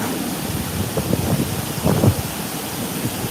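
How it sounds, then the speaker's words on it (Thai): Steady rain falls with a dense, even patter, punctuated by a few heavier drumming bursts and low rumbles. "ฝนตกแน่แหละ"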